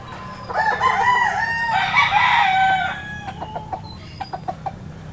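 A young golden rooster with yellow legs crows in a long, loud call up close, then breaks into a run of short, sharp clucks.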